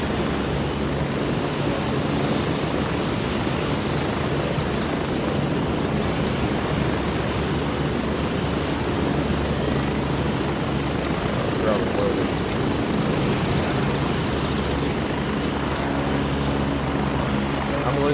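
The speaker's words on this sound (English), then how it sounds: "Oh, it's their heli. They were leaving." Helicopter in the video game Gray Zone Warfare, a loud continuous rotor drone that holds steady throughout, with people talking over it.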